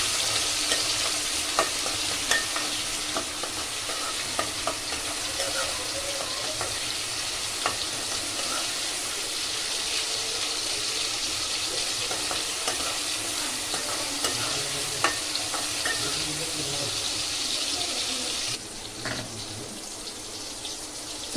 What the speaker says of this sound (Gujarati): અને ટમેટાને એડ કરી દઈશું. થોડીક વાર હલાવતા રહેશું.